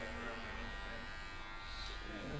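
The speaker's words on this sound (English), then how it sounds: "So I'll just use my clipper over comb to remove the majority of the bulk." Electric hair clippers buzzing steadily as they cut hair over a comb during a short crop with a mid-high fade, a close continuous hum with a voice speaking over it.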